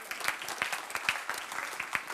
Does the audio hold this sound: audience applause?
yes